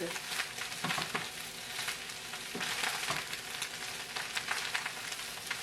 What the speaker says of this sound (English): This is fried rice. You have to leave it for it to fry a bit.